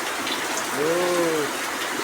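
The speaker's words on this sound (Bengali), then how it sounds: "দেখেন কি সুন্দর বৃষ্টি হচ্ছে" A steady, even hiss of falling rain, with a short, low voice-like hum rising briefly in the middle.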